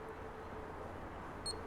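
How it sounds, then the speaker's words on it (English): A small device gives one short, high electronic beep after its button is pressed and held. The beep sounds near the end of a quiet stretch with faint background hiss. "press and hold, get another beep"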